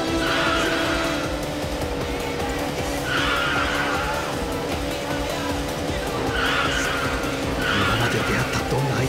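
A car engine roars steadily in the Initial D racing game on PlayStation 2, with recurring tire squeals and skids every few seconds as it corners hard, loud and close throughout.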